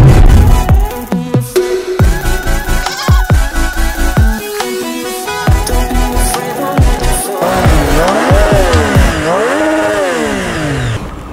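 Triumph Street Triple motorcycle exhaust on hairpin mountain bends near Ooty, revving up and down in loud, close bursts, with rising and falling engine sweeps as it climbs and brakes through the corners.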